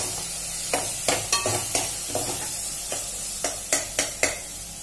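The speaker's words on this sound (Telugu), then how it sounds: "ఉల్లిపాయ బాగా మగ్గిపోయి, బాగా మగ్గిపోయింది." Sliced onions fry in oil in a pan for an egg curry, with a steady soft sizzle under about ten sharp, rhythmic stirring scrapes of a spoon against the pan, close and clear.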